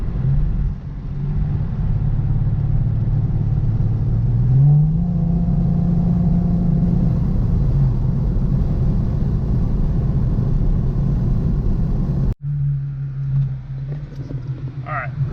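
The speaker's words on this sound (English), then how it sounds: "I'm gonna drive to a spot real quick, show you guys the Q50" An Infiniti Q50 drives along with a steady low engine rumble and road noise, a brief rise in pitch as it accelerates, then the drone drops out and resumes more quietly near the end.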